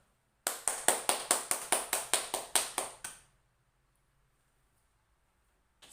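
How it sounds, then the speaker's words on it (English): Students in a classroom clap for a group in a crisp, evenly paced run of about a dozen loud, close claps, which stop abruptly and leave near silence. "Clap your hands for group 1"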